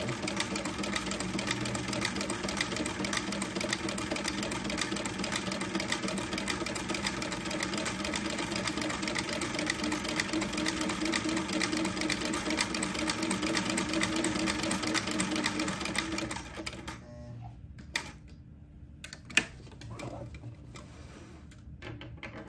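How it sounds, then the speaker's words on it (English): A sewing machine stitching a buttonhole on a baby's daygown: fast, steady mechanical whirring and needle chatter at moderate volume for about sixteen seconds, then it stops, leaving a few faint clicks and handling noises. "sew my last buttonhole"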